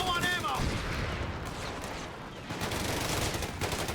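Dense, continuous gunfire from a Company of Heroes 3 World War II battle, with overlapping volleys of rifles and machine guns that crackle steadily for several seconds amid a noisy combat backdrop.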